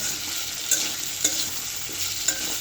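Sliced potatoes frying in a pan, a steady hiss of sizzling oil with a few sharp scrape-like clicks from stirring at regular intervals, close and alone without speech.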